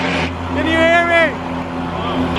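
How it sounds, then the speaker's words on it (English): A Ferrari 458 engine drones loudly and close, with a steady low hum, while a voice speaks over it partway through. "The car is too loud. It's too loud."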